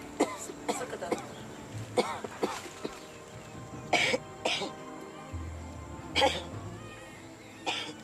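Several sharp coughs scattered over a few seconds, fairly close, during a medical examination, with background voices and low noise between them.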